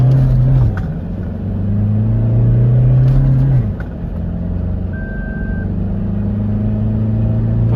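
A 2024 Toyota Fortuner with a manual gearbox accelerates hard from 0 to 100 in sports mode, its engine droning loudly and climbing in pitch, then dropping briefly at a gear change before pulling again.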